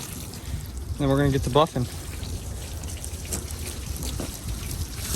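Water rinsing over a wet-sanded truck body, a low continuous splash and trickle running off the panels, with someone speaking briefly near the start.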